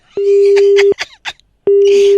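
Two long steady electronic beeps of a phone call cut-off tone, clear and loud, separated by a pause with a few brief muffled bursts of background voices.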